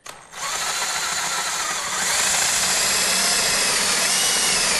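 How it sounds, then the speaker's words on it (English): A power drill with a Forstner bit whirs steadily and loudly, its pitch rising slightly as it bites, running continuously without pause. "When you're using the Forstner bit, don't put too much pressure on."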